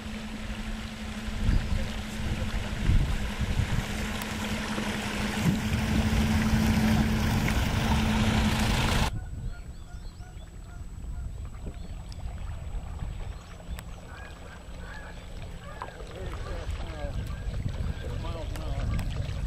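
The steamboat Equinox moving across the water, a steady churning wash and engine rumble that drops abruptly partway through to a quieter rippling water sound with faint background noise.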